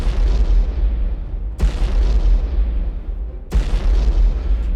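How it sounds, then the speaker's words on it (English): Heavy bomb blasts from a strike force hitting Batavia in a naval war strategy game, three deep booming explosions spaced about two seconds apart, each with a sharp onset and long rumbling decay. "our Strike Force is going to bomb Batavia"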